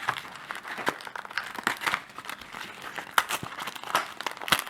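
A Yu-Gi-Oh! booster pack is torn fully open by hand, with dense crinkling and crackling of foil wrapper, steady close rustles and sharp little tears running throughout, no voice.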